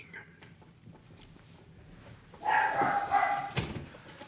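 A dog barks and yelps indoors in a burst of several overlapping, moderately loud calls that last close to two seconds, following a quieter stretch.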